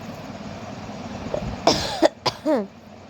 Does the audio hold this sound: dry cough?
yes